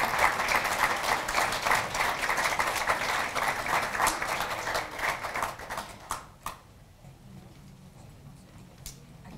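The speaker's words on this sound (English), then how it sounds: "How about a round of applause for all our nominees today?" Audience at a mayor's awards ceremony applauding the nominees, a lively round of clapping that holds steady for about six seconds and then thins out to a few scattered last claps.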